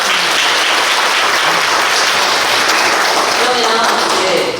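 Audience applause at an economic forum in Suncheon, a loud, steady wash of clapping sustained throughout before fading at the end, with a faint voice emerging near the close.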